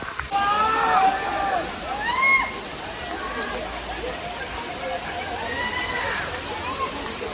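Heavy rain hisses down in a steady, dense rush near Amboli waterfall while a person speaks over it, voice rising and falling above the constant downpour.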